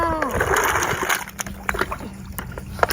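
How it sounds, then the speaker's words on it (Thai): Cockles being washed in water after gathering at the sea, with splashing and sloshing that are loud and close at first and then break into scattered drips and small splashes, while voices talk over the start. "ไปล้างน้ำกันจ้ะ ล้างหอยกันค่ะ"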